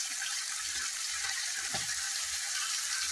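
Green chickpeas roasting in a pan with garlic-chili paste and turmeric-coriander paste for a Bihari-style curry, giving a steady, soft sizzle and hiss throughout, with a brief stirring scrape midway.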